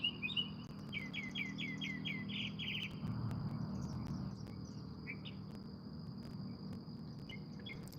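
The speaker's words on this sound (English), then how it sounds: "birds have different times of the day where they sing" Small birds outdoors chirp in quick repeated trills, fairly faint and at a distance, over a steady buzzing insect drone and low background hum.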